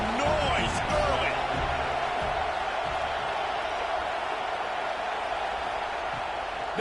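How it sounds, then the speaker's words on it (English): Broadband roar of a football stadium crowd at an ASU vs USC game, loud and steady throughout, a constant wash of cheering with a few sharper shouts near the start. "This crowd bringing the energy and noise early."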